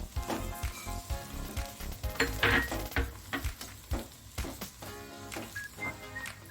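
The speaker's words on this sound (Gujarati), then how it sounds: "ખાંડ થોડી ઓગળે ત્યાં સુધી આપણે હલાવશું" Sugar stirred into roasted flour in a pan while making a milk-solids sweet gives soft scraping and gentle sizzling close up, with irregular spoon strokes and light clinks against the pan.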